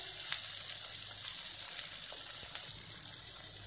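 Pieces of wheat dough frying in oil in an iron kadhai produce a fairly quiet, even bubbling sizzle with a few faint scrapes, continuous and without any voices.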